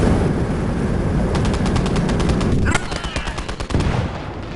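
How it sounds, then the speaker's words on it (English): Rapid bursts of machine gun fire rattle through a Gates of Hell: Red Star Rising battle, loud and sustained with a brief lull partway before the firing resumes over a rumbling war backdrop. "There's a machine gun there."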